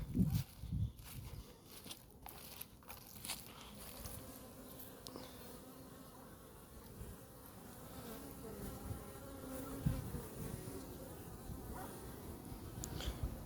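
Honeybees fly around winter hives outdoors, a faint, steady buzzing swarm with individual bees droning close past, joined by a few soft rustles and footsteps.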